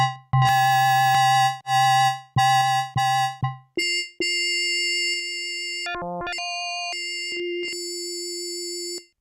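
Yamaha PSS-560 keyboard synth played with its spectrum control turned fully down, giving harsh buzzy tones that stutter in short repeated bursts, then a run of sustained bright electronic notes shifting pitch, loud and alone.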